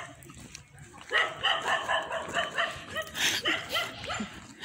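Several dogs bark in a Ghanaian residential neighbourhood, a run of repeated, fairly rhythmic barks at moderate distance that carries on with short pauses throughout.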